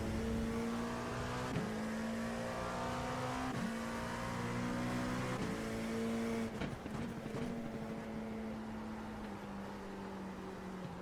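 An LMP2 prototype race car engine in a racing video game, revving hard through repeated upshifts with rising tones and brief dips between gears, loud and close, with a clattering shift near the middle.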